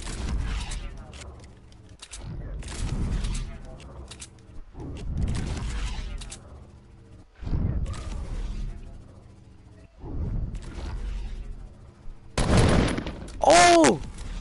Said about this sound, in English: I shot you mid-air